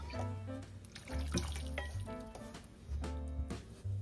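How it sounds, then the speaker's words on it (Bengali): Water runs and splashes steadily into a cooking pot of khichuri on the stove, with a faint sizzle underneath and a tonal hum, close by with no talking. "এটার মধ্যে জল দিয়ে এই জলটাই এখানে দিয়ে দেবো।"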